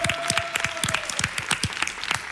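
Studio audience applause on a Spanish TV talk show, a steady patter of many hands with distinct claps throughout, moderately loud, with a faint sustained tone early on.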